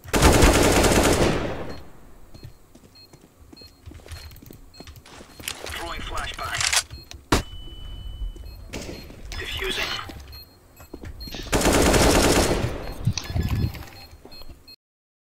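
Bursts of automatic gunfire from the video game CS:GO come in two dense, loud volleys at the start and near the end, with scattered shots and clatter in between and a voice talking over it.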